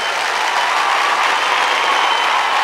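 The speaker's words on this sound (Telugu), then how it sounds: "give a big claps" Loud, dense applause from a large audience at a film audio launch and 100-day celebration event, a continuous even roar of clapping hands that fills the whole stretch without pause.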